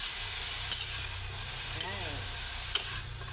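Vegetable filling for lumpiang gulay stirred in a hot pan, steady sizzle with a few distinct scraping clinks of the utensil, close and continuous.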